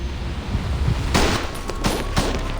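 Gunfire in the game Reverse 1999: several sharp bursts of weapons fire crack out over a continuous rumbling background, fairly loud and close.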